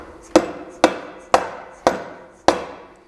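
Five sharp, evenly spaced taps of a soft face mallet seating a Shimano external threaded bottom bracket axle, each knock crisp and close with a quick decay, no voices.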